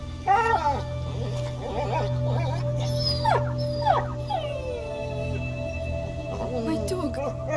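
A dog in the video game A Plague Tale: Innocence whimpers and lets out rising, wavering howls over a steady low game drone, loud and near, with yips through the passage.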